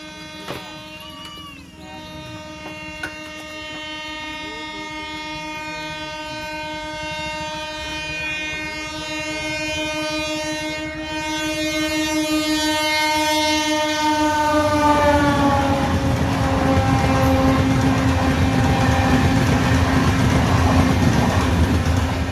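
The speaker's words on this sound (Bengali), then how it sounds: "ফাইনালি ট্রেন পার হয়ে গেছে" At a railway level crossing, a train sounds a long, loud horn for about fifteen seconds, then roars past close by with rolling wheel clatter that fills the rest.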